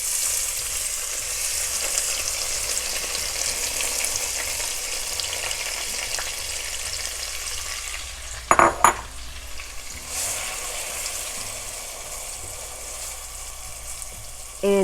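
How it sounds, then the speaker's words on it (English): Chopped red pepper sizzles in leftover fat in a pan for spicy corn chowder, a continuous close hiss with a sharp burst of utensil clatter midway and a brief knock near the end. "in the same fat, we're going to put in our red pepper."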